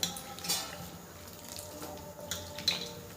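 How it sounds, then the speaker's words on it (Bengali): Garden vegetables being rinsed in water, soft splashes and sloshing with light clinks of a pot or bowl, close and quiet, in short irregular bursts. "আর এইটা আমি ভালো করে ধুয়ে নেব 2-3 বার করে।"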